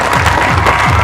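A crowd at an India–Pakistan border event in Suchetgarh claps steadily for Border Security Force soldiers, with sustained dense applause and a faint murmur underneath for about a second.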